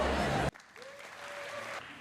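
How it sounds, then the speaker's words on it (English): A loud burst of audience applause at a live speech cuts off abruptly after half a second, leaving a faint, quieter room tail. "I don't usually get such a nice applause from you guys."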